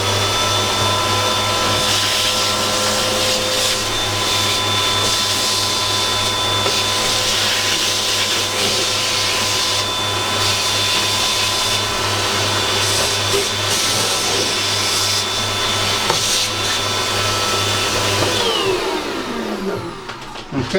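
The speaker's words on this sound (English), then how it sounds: "I'm just going to vacuum everything up now just to give it a quick tidy" A vacuum cleaner tidies up an N gauge model railway layout, running as a steady loud motor whine and rushing airflow with a constant low hum, then tapering off at the very end.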